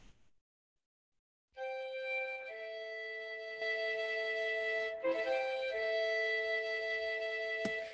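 Orchestral excerpt of the opening line of Copland's Billy the Kid: after a brief silence, sustained harmonious chords of strings and winds enter softly and swell, shifting mid-phrase, with a light percussive accent near the end.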